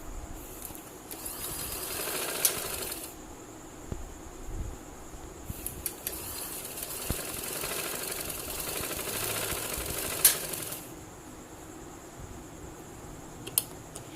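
Sewing machine stitching the folded hem of trouser fabric, running in two steady whirring bursts with a quieter pause and a few clicks between them.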